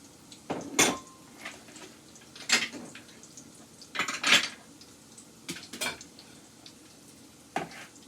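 Small dishes from a set being handled in a home kitchen while onion rings are being made: scattered, sharp clinks and clatters of crockery, fairly close but soft, with quiet gaps between.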